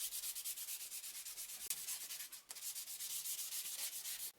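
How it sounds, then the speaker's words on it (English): Rapid, rhythmic back-and-forth wet sanding of a plastic brake light with fine sandpaper under water, a soft, hissy rasp repeating steadily with one brief pause. "now I'm going to use finer sandpapers and I will do it under the water"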